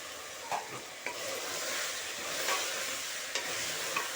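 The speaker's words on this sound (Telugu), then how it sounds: "ఇప్పుడు మనం శుభ్రం కడిగి పెట్టుకున్న పాయ వేసేద్దాము" Cleaned mutton trotters added to spiced masala frying in a pot, a faint steady sizzle broken by a few soft stirring knocks.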